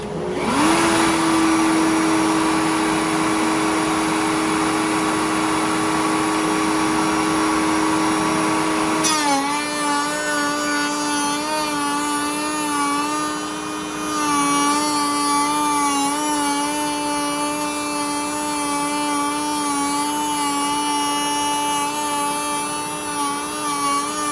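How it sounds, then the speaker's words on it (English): A power saw runs steadily for a long stretch, cutting a groove into a wood test piece while building cabinet doors: a loud, sustained motor whine that shifts pitch partway through as the blade bites into the wood, with no talk. "So we'll go ahead and cut this first test piece."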